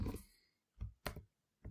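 A few computer mouse clicks while using Microsoft Word: sharp, isolated, quiet taps spaced irregularly, three distinct clicks after a softer opening sound, close and dry.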